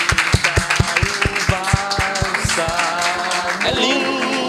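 Clapping from a church congregation, rhythmic and fairly close, beginning with distinct in-time claps that build into denser applause, with music or voices faintly underneath.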